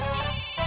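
A short electronic phone ringtone plays steadily, a bright tonal melody with no voices.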